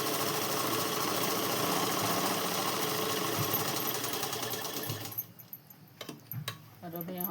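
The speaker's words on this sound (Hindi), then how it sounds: "और यहाँ पर हम सिलाई लगाएंगे।" A sewing machine stitches shalwar fabric in a dense, steady mechanical whir for about five seconds, then stops. A few faint clicks and handling sounds follow.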